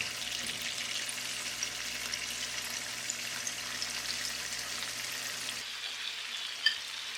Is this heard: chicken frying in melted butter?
yes